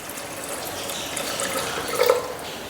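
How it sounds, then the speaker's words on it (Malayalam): Water is poured into a pressure cooker holding broken wheat and dal. The pour is a steady nearby splashing stream that grows a little louder toward the end, with no talking. "ഇനി നമുക്ക് അതിനകത്ത് വെള്ളം ഒഴിച്ചു കൊടുക്കാം"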